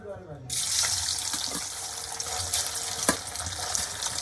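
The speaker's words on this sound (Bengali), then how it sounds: "তেলটা গরম হয়ে গেছে এবার আমি ওই তেলের মধ্যে পনিরগুলোকে ছেড়ে দেব" Paneer pieces drop into hot white oil in a kadai and start frying, a sudden broad hiss that holds steady and close, with a few faint clinks over the sizzle.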